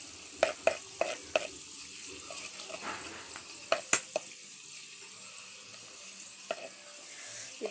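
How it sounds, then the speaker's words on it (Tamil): Mustard, cumin and fenugreek seeds splutter in hot oil, with a faint steady hiss broken by scattered sharp pops and crackles, loudest in the first half before settling into a quieter sizzle. "இது கூடவே கடுகு, இது கூடவே கொஞ்சமாக வெந்தயம். பாருங்கள், நல்லா பொரியுது."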